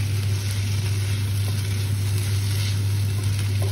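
Aloo palak, potato with spinach, sizzles steadily in a hot pan as it is stirred, with a constant close frying hiss and a low hum in the background and no talk.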